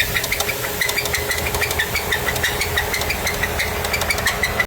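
Failing GM 6.2L V8 engine knocking at idle, a loud, rapid metallic tapping repeating in a steady rhythm over the engine's rumble, close up, before cutting off abruptly.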